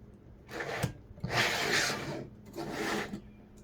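A screwdriver drives down the back plate screws on a Zotac RTX 3090 Trinity OC graphics card, making three close, quiet bursts of gritty rasping and scraping with short pauses between them.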